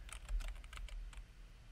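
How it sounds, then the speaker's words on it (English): A short run of keyboard typing entering an equation into a computer algebra system, done with one hand on a cluttered desk; about a dozen distinct close clicks in uneven rhythm. "I'm trying to type this all with one hand because there's too much stuff on my desk"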